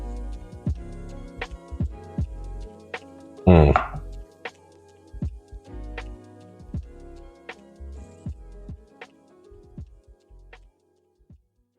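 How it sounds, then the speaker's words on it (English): A knife cuts through the fat of an Aldi brisket, slicing it into small pieces, producing sharp, regular taps on a cutting board at a steady rhythm, close and clear, with one louder scraping burst. "Going to cut the fat on and cut it into little slices"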